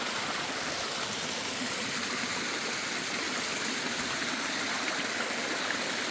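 A stream flowing along the Appalachian Trail, a steady broadband rush of running water, close and continuous with no break or voices.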